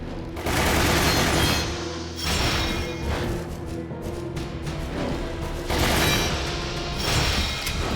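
Submachine gun fire in a video game: dense, continuous automatic bursts with booms and mechanical clatter, loud and close, rising and falling in waves over eight seconds without talk.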